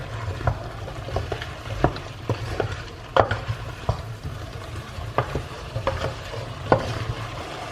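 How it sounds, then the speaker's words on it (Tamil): Zucchini tossed with masala in a hot pan gives a soft continuous sizzle broken by irregular scraping clicks of a spoon against the metal, close and fairly quiet with no talk. "zucchini சேர்த்துட்டு நல்லா மசாலாவோட மிக்ஸ் பண்ணிக்கோங்க."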